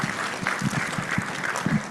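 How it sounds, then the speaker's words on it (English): Polite golf clap from an audience at a health equity summit, a few soft scattered claps in an irregular rhythm, fairly faint in a reverberant room. "Golf clap."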